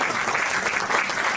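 An audience applauds a volunteer at a volunteers' evening hosted by a town hall, dense steady clapping filling the room, moderately loud and uninterrupted with no talk.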